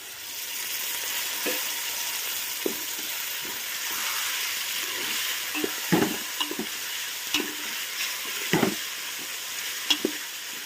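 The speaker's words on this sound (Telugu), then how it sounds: "చికెన్ వేసుకొని ఇలా కలుపుకొని" Half a kilogram of washed chicken with turmeric sizzles and fries steadily in a pot, a constant close hiss broken by occasional knocks and scrapes of a spoon stirring the pieces.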